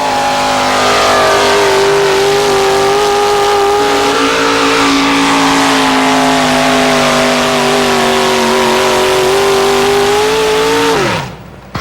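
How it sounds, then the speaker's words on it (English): A Stitches 10-can GMC pulling truck, powered by a Jim Lyons-built engine, roars down the track at a truck-pulling event. Its loud, sustained engine drone climbs slowly in pitch, then drops sharply and cuts off near the end. "here we go now, the Stitches 10-can truck"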